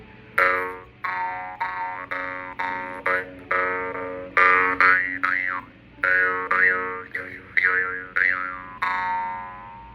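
A jaw harp twangs in a series of short rhythmic plucks, each with a buzzing, wavering boing as the tone shifts, close and alone.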